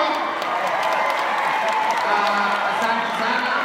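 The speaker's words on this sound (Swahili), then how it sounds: "Kwa makofi." A crowd applauding and cheering at a Sunday church service in Kayole, Kenya: dense, continuous clapping that holds at a steady loud level for several seconds.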